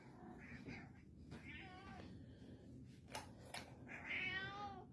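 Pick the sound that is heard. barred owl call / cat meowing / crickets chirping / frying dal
cat meowing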